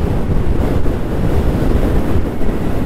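Sea waves and strong wind at Dhanushkodi on the coast, a loud continuous roar of surf with heavy wind buffeting the microphone and no voices.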